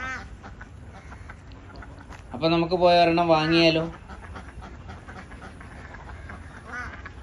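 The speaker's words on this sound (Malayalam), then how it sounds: "പൂവൻ താറാവും പിടത്താറാവും ഉണ്ട്." At a Christmas-season market selling drakes and female ducks, one loud, rasping quacking burst breaks out midway, close by, with people talking before and after it.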